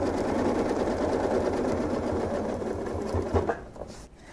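A sewing machine quilting along a seam with a ruler guide, its needle motor running in a fast, steady close-up whir for several seconds before slowing and stopping.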